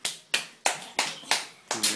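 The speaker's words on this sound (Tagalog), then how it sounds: "Palakpak." Six sharp hand claps in an even, deliberate rhythm, close and crisp, each ringing out briefly before the next.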